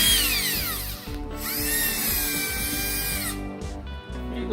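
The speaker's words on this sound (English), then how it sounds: "now I'm just going to drill my pilot hole with the drill bit here" A power drill with a bit drills a pilot hole into drywall while an Ikea shelf is being mounted, its motor whining up and down in several close, loud bursts with brief pauses between them.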